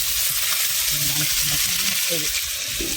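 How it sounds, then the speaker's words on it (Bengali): Large-cut potato pieces frying in a pan for a river eel curry, giving a steady broadband sizzle with faint scraping stirs and a quiet voice murmuring underneath. "এই যে আলুগুলো হালকা করে বেজে নেওয়া হচ্ছে"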